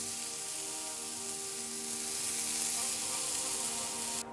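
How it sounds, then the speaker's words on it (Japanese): Beef kebab patties sizzle on an iron plate with a steady, dense hiss of frying. The sound stays even and close throughout, with a faint tonal hum beneath it and a brief knock near the end. "こんな感じである程度周りに焼き色がついたら鉄板に移していきます。"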